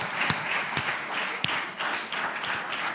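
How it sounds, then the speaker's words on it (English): Moderately quiet applause from an audience after a live chemistry experiment demonstration, a steady patter of clapping hands with a few sharper individual claps standing out over three seconds. "One more time, big round of applause for our entire team."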